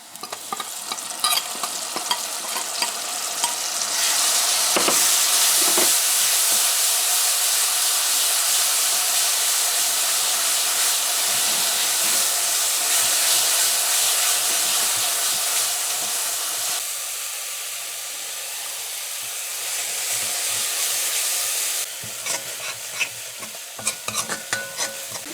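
Curry paste frying with onion for channa curry, a loud steady sizzle with a hissing wash that swells and holds for most of the stretch, broken by occasional scrapes and knocks of stirring.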